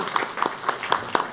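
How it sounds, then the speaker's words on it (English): A few people clap in a board of supervisors meeting, the claps coming in an even, moderately paced rhythm at a modest level, with no other sound competing. "give these two gentlemen a big round of applause"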